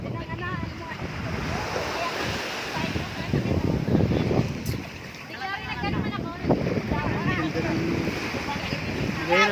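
Waves wash steadily onto the shore at a seaside spot during a power outage, a continuous near rush with wind buffeting the microphone, while people talk over it throughout.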